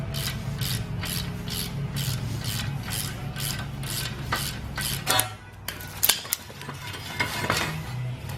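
A leaf spring center pin bolt is worked out on a truck's rear spring pack, giving a steady run of rhythmic ratcheting clicks over a low mechanical hum, followed by a few sharper metallic knocks.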